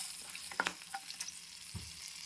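Close, crackling sizzle of spices frying in hot oil for a wood apple chutney tempering, with a few quick scrapes and clicks of a spoon against the pan.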